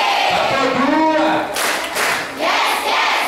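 A workshop group claps together in a led rhythmic clap routine, a short burst of hand claps at close range with voices mixed in.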